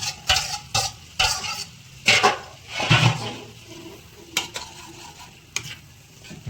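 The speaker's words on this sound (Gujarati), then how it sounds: "ત્યાર પછી આ બટાકા, વટાણા, ફુલેવાર બધું મિક્સ કરી લઈ." A spoon stirs and scrapes potatoes, peas and cauliflower in a pan for bhaji, with a light sizzle underneath. The scrapes come in close, uneven bursts with short pauses, and nobody speaks.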